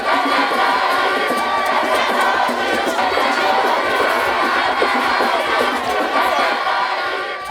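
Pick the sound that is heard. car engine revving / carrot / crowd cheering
crowd cheering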